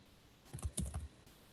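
Keyboard typing while entering field names for a Python MySQL connection on Ubuntu Linux: a short burst of several close, crisp key clicks, quiet and alone with no talking.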